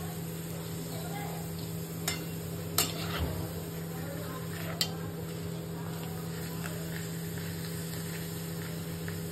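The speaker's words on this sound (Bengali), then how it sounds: "এই যে পাঁপড়টাও ভাজা হয়ে যাচ্ছে।" Papad fries in oil that is too hot, a soft steady sizzle beneath a constant electrical hum, broken by a few sharp clinks of a utensil against the pan.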